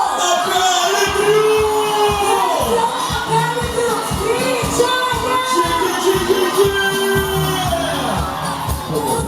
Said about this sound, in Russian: Давайте поаплодируем, дорогие друзья, и по наши бурные аплодисменты встречайте!